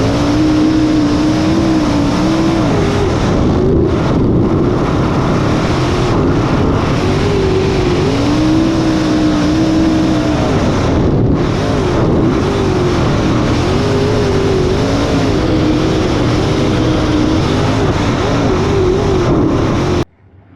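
Sprint cars racing at Haubstadt roar continuously at close range, engines droning and swelling as throttles open and lift through the corners, a dense unbroken pack sound with no talk.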